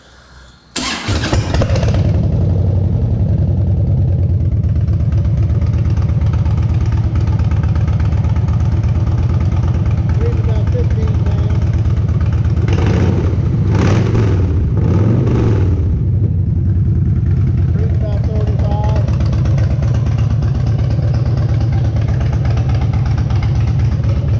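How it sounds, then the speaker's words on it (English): A Harley-Davidson Softail motorcycle engine cranks and fires, then settles into a steady, loud, close idle with a deep lumpy rumble that carries on to the end, a few brief revs partway through. "so I'll start it up again here"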